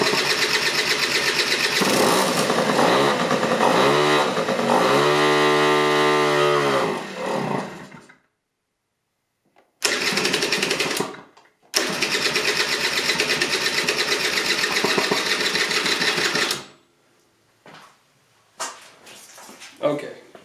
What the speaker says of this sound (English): try to start it back up without starting fluid, and then I'm gonna rev it